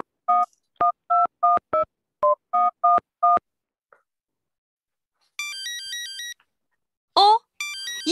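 A phone is dialed with a string of evenly spaced keypad tones, then after a short pause a ringtone rings from inside a bag in a bright, repeating electronic pattern. It is fairly clear, with no voices.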